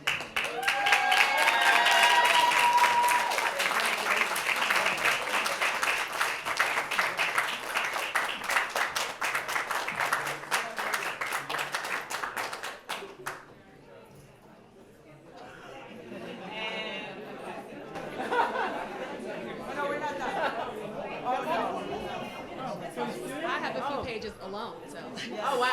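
At a board meeting, a raucous crowd claps loudly and steadily, then settles into a lively hubbub of chatter and cheering with scattered claps, and voices talk throughout.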